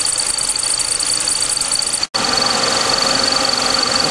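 A 2004 Chrysler PT Cruiser engine idles while warming toward operating temperature, a steady close mechanical drone with a faint high whine, briefly cut by a split-second dropout midway before resuming unchanged.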